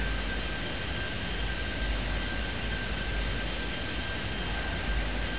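Steady broad jet engine roar of an aircraft landing in the video game Airport Madness 3D, a constant airy rush with a faint high whine throughout and no talk.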